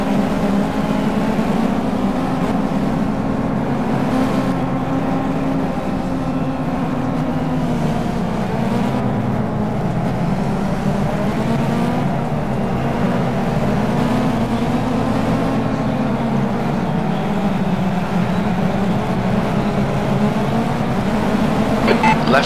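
Race car engines in a sim racing game at Bathurst, a loud continuous engine drone with rising and falling pitch as gears and speed change, with a spotter's voice speaking over it at times.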